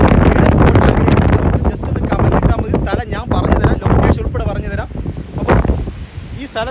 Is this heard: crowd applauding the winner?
no